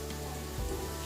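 Turmeric and a Kokani ground masala of onion, coconut and garlic frying in a pan, a soft steady sizzle with a brief stir, fairly quiet and close.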